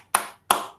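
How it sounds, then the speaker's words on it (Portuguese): Two sharp hand claps from an audience at an organizational psychology lecture, evenly spaced about a third of a second apart, each ringing briefly in the room before fading. "Aplausos."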